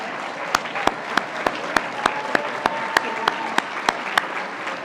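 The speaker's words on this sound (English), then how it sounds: "Graduates, give these individuals a round of applause." An audience at a spring university commencement applauds, with a sustained wash of clapping and sharp, evenly spaced claps cutting through it, loud and close throughout.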